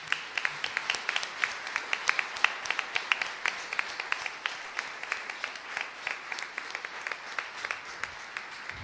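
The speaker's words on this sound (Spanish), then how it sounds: "a quien le pedimos también un fuerte aplauso" An audience at an evening church music event gives steady, sustained applause, dense and even clapping with no voices over it.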